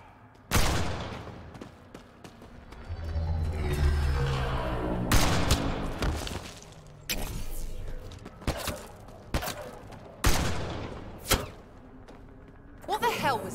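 Gunfire rings out during a sci-fi shootout in Mass Effect Andromeda, with a dense burst of blasts followed by scattered sharp, loud shots and impacts, while voices shout now and then.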